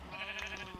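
A Minecraft sheep bleats once near a grass block, a short nasal wavering call heard close and alone, with no talking over it.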